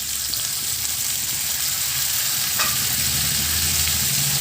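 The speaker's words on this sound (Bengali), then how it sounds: "একটু ভেজে নিয়ে এর মধ্যে দিয়ে দেবো সর্ষে বাটা।" Ground mustard paste, made from black and white mustard seeds, hits a frying pan and sizzles with a loud, continuous dense hiss, a brief stir sounding partway through.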